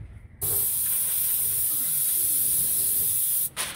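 A paint sprayer misting paint onto a garage door gives a loud, steady hiss that starts abruptly, holds for about three seconds, then cuts off sharply, with a brief burst after.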